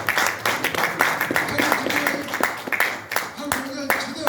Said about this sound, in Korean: 우리 강 총장님 박수 한번 쳐주세요.